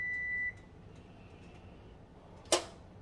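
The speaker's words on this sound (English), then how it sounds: "What's beeping? Everything at once, the steamer and the rice." Kitchen steamer and rice cooker beeping: a single steady electronic tone lasts about half a second, followed by a faint lingering tone and a sharp clatter near the end in a quiet room.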